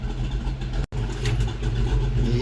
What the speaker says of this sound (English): Chris Jr.'s car is warming up to try to diagnose and fix an electrical issue